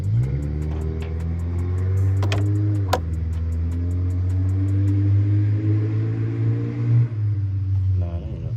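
A Honda Accord with a J35 V6 and a cold air intake idles with a steady, deep, even drone that holds close and loud for several seconds. A brief rise in engine tone follows before the drone settles again near the end.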